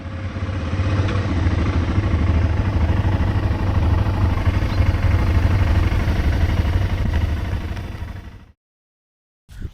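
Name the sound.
motorcycle engines idling before parking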